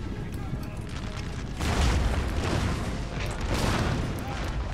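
Rockets exploding on targets in a Napoleon: Total War battle, a rolling series of deep booms and crackling blasts that swell midway and continue under a speaking voice.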